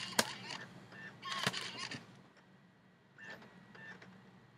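A DVD disc slides into a computer's disc drive during disc burning on a Mac: a few sharp, close clicks and mechanical rattles, then softer whirring bursts as the drive takes the disc.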